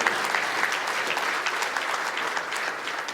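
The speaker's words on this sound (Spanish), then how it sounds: "Dale palmas a Él, hermano, con toda libertad" Church congregation clapping in a dense, sustained roar of applause from many hands, steady and loud throughout, with no pause.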